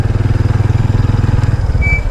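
A motorcycle tricycle engine idles close by, a loud, steady low throb with fast regular pulsing that holds for the whole two seconds with no voices over it.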